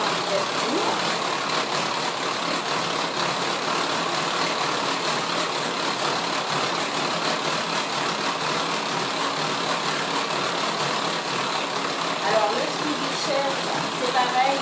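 An electric hand mixer runs steadily on speed 1 whipping Chantilly cream for a Nutella cone, a continuous mid-level motor whir with no pauses, while a person talks over it throughout.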